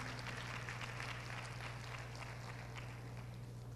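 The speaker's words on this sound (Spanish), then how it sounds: "Puede darle fuertes palmas a Cristo Jesús." Steady applause fills a church worship service, a dense wash of clapping from the congregation, with a low constant hum running underneath.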